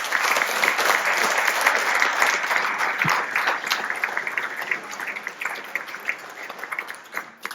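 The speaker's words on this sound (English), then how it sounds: "How about a round of applause?" An audience at a lake association program gives a steady round of applause, dense clapping sustained throughout at an even level with no talk over it.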